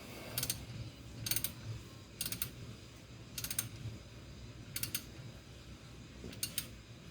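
A few faint, sharp ratcheting clicks sound at regular intervals while an oil filter is tightened on a Kawasaki Teryx 800 utility vehicle, each quick burst spaced about a second apart over quiet background.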